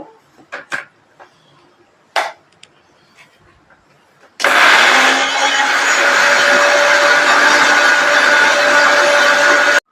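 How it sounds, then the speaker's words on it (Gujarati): An electric mixer grinder crushes chopped onion pieces with a pinch of asafoetida for a Gujarati patra filling. A few light clicks and knocks come first, then the motor starts abruptly with a loud, steady whirring grind that runs to the end. "ડુંગળીમાં ઝીણ સુધાર નાખીએ ને પછી આખા મોટા કટકા કરી નાખ, વાંધો નહીં, તો મિક્સરમાં થઈ જાય"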